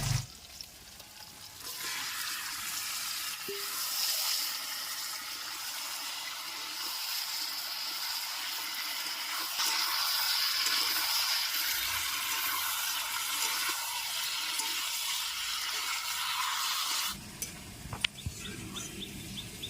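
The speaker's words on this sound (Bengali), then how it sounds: "এবারে ম্যারিনেট করা চিকেন দিয়ে দেবো" Marinated chicken goes into a pan of spiced masala for a Bengali desi chicken kosha, setting off a steady, close sizzling hiss that holds for most of the stretch and then cuts off abruptly near the end, with no talking.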